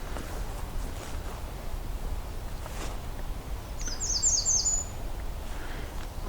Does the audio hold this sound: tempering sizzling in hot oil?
no